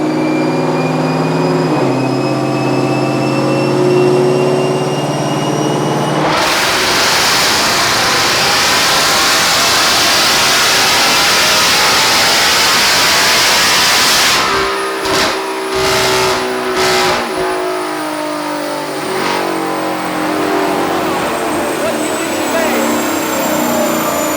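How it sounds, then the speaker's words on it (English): Supercharged 2024 Mustang GT, over 800 hp, on a dyno: a loud engine drone with rising tones that surges to a full roar, then steps and fluctuates as it shifts, with people talking throughout. "It's probably gonna go 160 miles an hour on the dyno."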